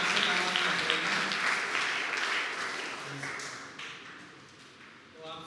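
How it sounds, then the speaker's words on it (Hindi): A church congregation at a Sunday evening Hindi service claps loudly, a steady dense patter of many hands that fades gradually toward the end, with some voices mixed in. "तो क्यों ना आप परमेश्वर के लिए जोरदार ताली बजाइए सभी"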